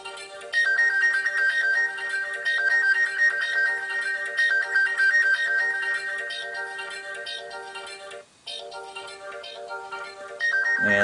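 The Pegasus stock ringtone plays on a Samsung Galaxy Nexus phone: a bright, repeating melodic chime, loud and alone, with a short gap near the end before it restarts.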